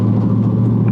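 Ford F-150 Raptor R with four-wheel drive, engine floored at full throttle: a brief, loud, steady low rumble close to the vehicle.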